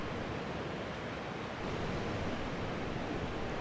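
Ocean surf rolls in along a Pacific shoreline on the West Coast Trail, near a shallow area sheltered by an offshore reef: a dense, steady wash of broadband water noise that swells slightly midway, with no voices.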